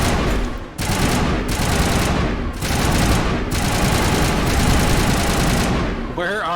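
Sustained rapid automatic gunfire from the player's weapon in Mass Effect, loud and continuous with a few brief breaks between bursts.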